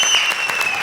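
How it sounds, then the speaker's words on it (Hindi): A comedy show audience claps in a brief, full burst, with a sustained tone running underneath. "इस बात पे दे ताली"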